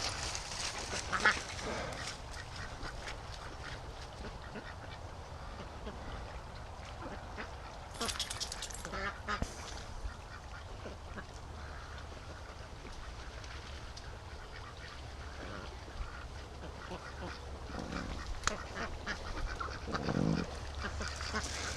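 Free-range ducks quack intermittently near a creek and lake, scattered calls over a steady outdoor background with occasional rustling, moderately distant.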